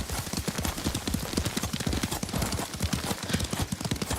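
A horse's hooves clip-clop in a quick, steady rhythm as it is ridden across ground in Ghost of Tsushima, loud and close throughout.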